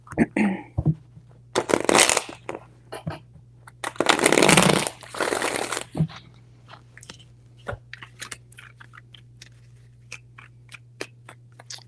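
Tarot cards are shuffled in two long riffling bursts, then tapped and handled in scattered soft clicks against a low steady hum.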